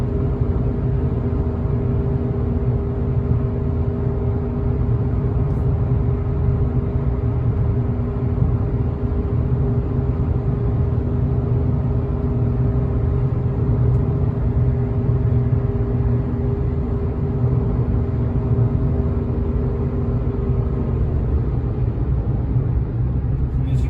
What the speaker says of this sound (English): I don't think it's a very loud engine bay. I'll shut up and let you listen.